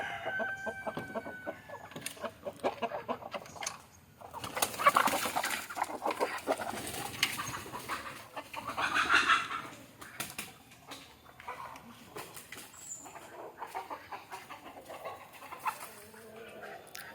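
Country chickens cluck and call repeatedly nearby, with occasional louder squawks and bird chatter over a quiet outdoor background.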